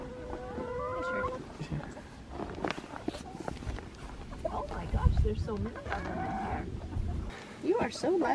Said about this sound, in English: there's so many chickens